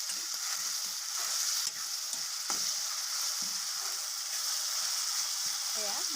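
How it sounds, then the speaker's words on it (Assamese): Onions frying in a pan until browned for Assamese koldil, a steady bright sizzle throughout with occasional clinks and scrapes of stirring, no voice. "ৰঙচুৱাকৈ মই ভাজি ল'ম"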